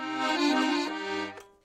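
A sustained accordion chord that shifts to another chord partway through, then fades, played close with a full, reedy tone.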